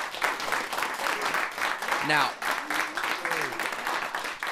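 An audience of the Pride rugby team from Perry Street Prep claps and applauds for Dr. John Carlos, a dense patter of hands running throughout with voices calling out over it.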